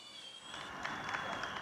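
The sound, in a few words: applause for healthcare workers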